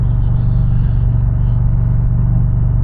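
An Indian Challenger Power Plus motorcycle engine rumbles steadily while riding on a scenic New Jersey road, a loud, constant low drone with wind noise.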